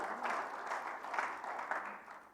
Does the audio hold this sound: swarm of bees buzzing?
no